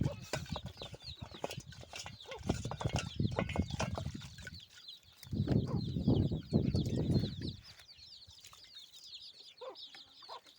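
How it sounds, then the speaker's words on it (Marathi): Hens wander around a farmyard in the morning, clucking intermittently nearby amid scattered rustling bursts and quieter stretches. "कोंबडी आजूबाजूला हिंडत आहे"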